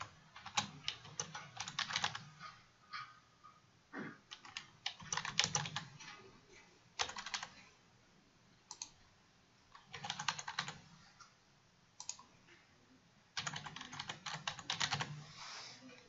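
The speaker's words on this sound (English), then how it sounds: "In this blank, you type in your question." Bursts of typing on a computer keyboard as a multiple-choice quiz question is entered, quick clusters of keystrokes separated by short pauses, close and moderately soft, with no one talking.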